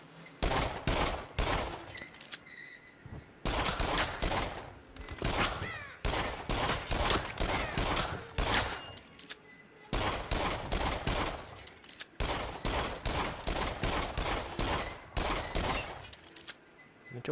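Rapid bursts of gunfire from the horror rail-shooter Until Dawn: Rush of Blood crackle loud and close in repeated clusters, separated by brief pauses.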